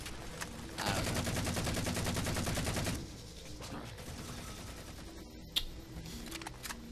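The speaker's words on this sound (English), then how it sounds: "I love the sound of the assault rifle now." Sustained rapid automatic fire from a Halo 4 assault rifle in a co-op Legendary campaign, a loud dense burst of about two seconds that cuts off sharply and gives way to quieter scattered game sounds.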